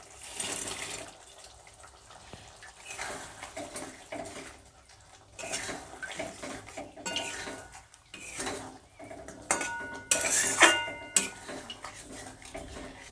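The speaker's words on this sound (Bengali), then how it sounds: "এবারে ভেজে রাখা বড়াগুলো গ্রেভির মধ্যে দিয়ে দেব" Fried vegetarian koftas are dropped into boiling gravy in a pan, with scattered clinks of spoon on metal, splashy bubbling and sizzling, and a brighter burst of clattering near the end.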